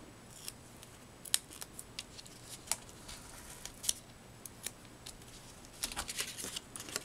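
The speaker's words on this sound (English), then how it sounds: "See how I have to go through and use my scissors and sort of give it a little extra help there" Scissors snip through paper card in a series of sharp, irregular cuts, close and fairly quiet, with a brief flurry of quicker snips near the end.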